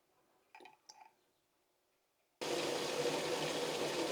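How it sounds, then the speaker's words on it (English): A household tap opens and water gushes steadily into a container being refilled for watering houseplants, loud and close after a few faint clicks and handling sounds in an otherwise quiet room. "This needs to be refilled. So I'm going to refill this really quick."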